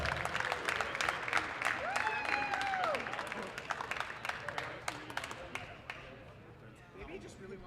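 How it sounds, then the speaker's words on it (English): An audience applauds the winner at a university powerlifting championship, with dense clapping and a few cheers and whistles that gradually thin out, while voices talk over it. "Let's give Jonathan a round of applause."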